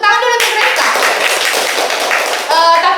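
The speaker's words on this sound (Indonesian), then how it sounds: "tepuk tangan dulu untuk Reska" Students in a classroom clap for a classmate, a brief burst of quick, loud hand claps with a voice speaking at the start and end.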